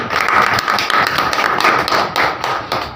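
An audience at a Delhi community gathering breaks into loud, dense clapping that runs for about three seconds.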